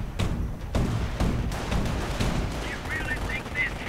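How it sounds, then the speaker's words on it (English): An armored car's autocannon fires in a World War II strategy video game, with a string of sharp, heavy bursts at irregular intervals over battlefield noise, followed by brief whistling tones near the end. "the Panzerwagen arrives, the armored car with its auto cannon, and immediately sets about killing a few Americans with its auto cannon"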